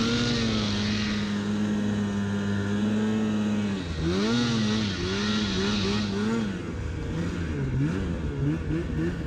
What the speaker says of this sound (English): the sled felt really aggressive as I skipped over these small bumps